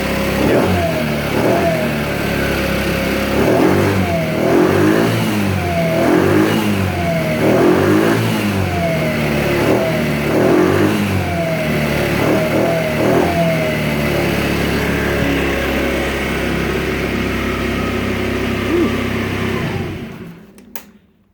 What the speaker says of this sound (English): so that's what the stock muffler sounds like